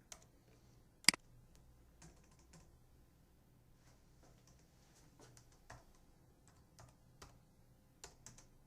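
Computer keyboard typing in a quiet room: sparse, faint key taps spread out over several seconds, with one sharper click near the start and a low hum underneath.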